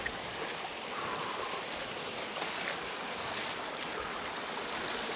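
A river flowing below a waterfall near Tagaytay, a steady broadband rush of running water that holds even and unbroken from start to finish, with no voices.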